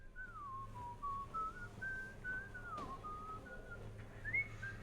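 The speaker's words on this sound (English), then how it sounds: "Hey Mitch, can you teach me how to whistle?" A character in the video game Shadows over Loathing whistles a wandering tune, a string of clear sliding notes that rise and fall over a quiet hum.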